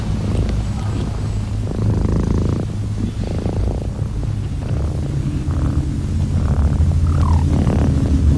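A domestic cat purrs steadily and close up, a low rumbling drone with rhythmic breath pulses running unbroken throughout.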